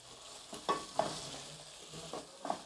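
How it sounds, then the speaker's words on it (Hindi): Potatoes and green chillies fry softly in a pan for pulao, with a faint sizzle under a few scraping stirs and light clinks of the spoon. "अब आलू डाल रहे हैं और हरी मिर्चें भी डाल रहे हैं। अब इसको अच्छे भुनेंगे"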